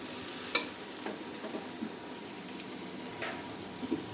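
Egg and vegetable chow is stirred in a frying pan, a soft low sizzle under scattered clinks and scrapes of the spatula, one sharper knock early on, quiet and close with no speech.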